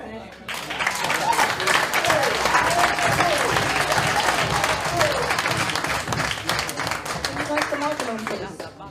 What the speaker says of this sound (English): Can we give him another clap, please?